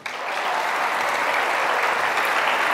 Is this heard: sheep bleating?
no